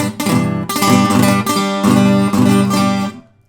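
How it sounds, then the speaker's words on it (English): An acoustic guitar is strummed in a quick rhythmic pattern with the pick held too tightly, so each stroke snags harshly across the strings; several choppy strums ring out and stop abruptly. "Hear how it kind of catches on those strings?"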